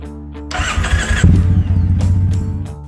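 An air-cooled Triumph Bonneville T100 parallel twin motorcycle engine cranks with a brief starter whir, then fires into a steady, smooth throbbing idle, close and loud.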